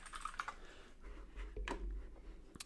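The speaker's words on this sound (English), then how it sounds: "Yeah, cat is on the keyboard." A cat walks across a computer keyboard, producing an irregular scatter of soft key clicks and taps, close and fairly quiet, with a low rumbling background underneath and no voices.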